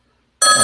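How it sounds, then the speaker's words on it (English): A telephone bell rings loudly and suddenly after a moment of silence for an incoming call, a bright sustained ring close to the microphone. "Oh, we got a phone call."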